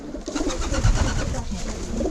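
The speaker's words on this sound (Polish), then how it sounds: "Moje się bronią, moje gołębie się bronią." Low, throaty cooing from a group of Czech pouter pigeons fills the air continuously, close and fairly loud, with some rustling underneath.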